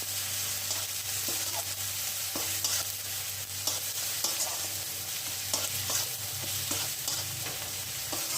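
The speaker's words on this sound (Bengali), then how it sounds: "পেঁয়াজ আর টমেটোটা একসাথে ভেজে নেওয়ার পরে এবারে দিয়ে দিলাম হলুদ গুঁড়ো, দিয়ে দিলাম জিরের গুঁড়ো, আর পরিমাণ মতো নুন, আর সামান্য একটু চিনি। সব কিছু আবারও একসাথে নেড়ে নিচ্ছি।" Onion and tomato stirred in a frying pan with turmeric, cumin powder, salt and a little sugar, a steady sizzle of frying under repeated scraping strokes of a spatula, close and continuous.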